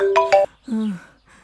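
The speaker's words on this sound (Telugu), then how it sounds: "ఫోన్ వచ్చింది." A phone ringtone plays two short, bright tonal bursts followed by a lower sustained tone, close and clear, with a brief pause before more sound.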